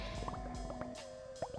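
Wet bubbling and dripping from an enemy hit by a salt bomb in Bomberman Hero, a string of small gurgling pops over a steady game music background, with no talk.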